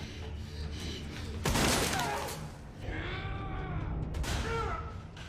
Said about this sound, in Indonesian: Casey melakukan self-defense, yaitu menembaki The Beast dengan shotgun sebanyak 2 kali tembakan